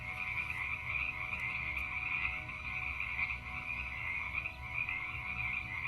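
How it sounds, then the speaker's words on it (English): A chorus of frogs croaking steadily at night at a lily pond in the Pantanal, Brazil, a constant high trilling drone with lower croaks underneath, moderately distant and uninterrupted. "The frogs are singing at the lily pond."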